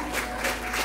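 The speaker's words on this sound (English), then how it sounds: "So round of applause for Leo." A school class applauds a pupil at a talent show, a short burst of steady clapping from a small crowd, even and moderately loud.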